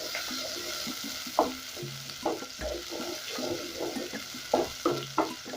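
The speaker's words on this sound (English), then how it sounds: "Now that my oil is nice and hot, I'll go in with my onions, and I'm going to cook them till they turn golden brown" Onions frying in hot oil for brown pilau rice, a soft continuous sizzle with repeated scraping and clattering as they are stirred, close and moderate in level, no speech.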